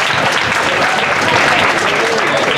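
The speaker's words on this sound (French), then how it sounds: "Des applaudissements nourris," Sustained, heavy applause from an audience at a formal reception ceremony in Senegal, a steady wash of many hands clapping throughout with voices faintly mixed in.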